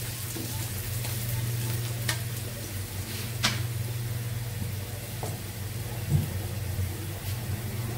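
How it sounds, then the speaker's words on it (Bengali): Steady oil sizzle of onions frying in a pan for koi fish bhuna, continuous and close, with a few sharp clinks of a utensil stirring. "কই মাছ ভুনার জন্য পেঁয়াজ দিয়ে দিচ্ছি, ভাজা ভাজা হচ্ছে"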